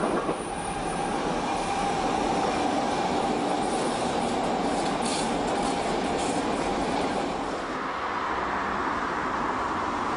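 A Stuttgart S-Bahn Class 420 electric commuter train rolls past with a steady rumble and rushing noise, and faint wheel squeals rise and fall throughout.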